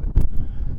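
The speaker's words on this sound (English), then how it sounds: "it is like super windy" Brief, heavy low rumble of wind buffeting the microphone in the main square of Ghent, Belgium, with a short louder gust burst.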